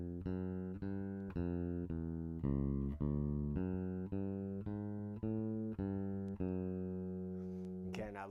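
Walking bass line with a chromatic approach note: a steady run of about fifteen plucked bass notes, evenly spaced on the beat, each decaying before the next, clear and close, ending in a brief scrape.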